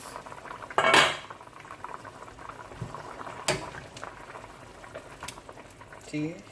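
A pot of Jamaican curry oxtail simmers with a steady bubbling hiss, broken by a few clinks of a metal spoon or lid against the pot.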